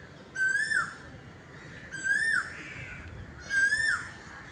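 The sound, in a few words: Asian koel calling from a tree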